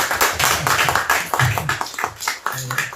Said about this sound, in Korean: 그래도 박수로 그래도 격려했으면 좋겠어요